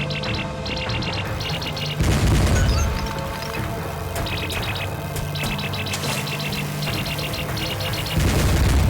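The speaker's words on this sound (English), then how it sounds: "And now we have some more bombs to deal with." Bombs exploding in the video game Luigi's Mansion 2 HD: a few heavy booming crashes spaced several seconds apart, loud against a bed of game music with repeated twinkly chimes, no speech.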